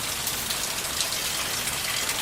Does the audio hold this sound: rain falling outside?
yes